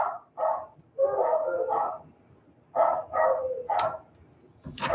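Several dogs bark excitedly at an arriving visitor in a house, with repeated loud bursts of barking in clusters and brief pauses between them, fairly close.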